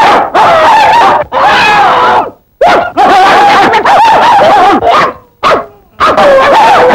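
Dogs bark loudly and repeatedly at close range, a rapid run of sharp barks with short pauses between bursts.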